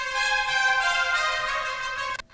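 Soloed trumpet section from the CineBrass orchestral sample library, played dry without its added effect layer, holding one bright, loud sustained chord for about two seconds before cutting off abruptly.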